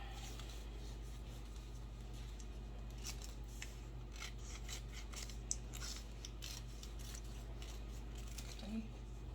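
Scissors snip through transfer tape for a dollar-store Valentine's Day vinyl sign, a string of quick, light cuts close by over a steady low hum, with no talking.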